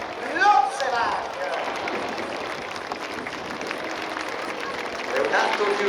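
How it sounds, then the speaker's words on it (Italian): Applause and cheering from an air show crowd for an aerobatic Yak pilot: a broad, steady wash of clapping lasting several seconds, moderately loud, with a bit of talk over it. "Salutiamo con un grandissimo applauso per il suo Lotsevac."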